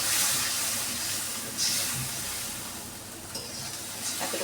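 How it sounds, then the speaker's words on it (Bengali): Spice paste with a little water sizzles and steams in a pan, a steady close hiss broken by a few stirring scrapes. "দিয়ে এখন জল দেব সামান্য পরিমাণে মশলাটাকে কষানোর জন্য।"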